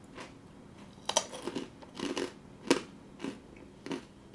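Crisp bites into a baked, dried jujube snack: several separate crunching snaps a fraction of a second apart, close to the listener, with soft chewing between them and no talk.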